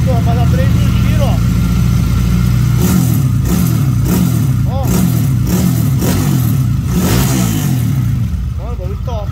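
A Honda Titan motorcycle, bored to 222cc with a 67x63 piston and fitted with an Athlon programmable module, idles loudly close by and then revs hard in repeated rising bursts while someone talks over the engine.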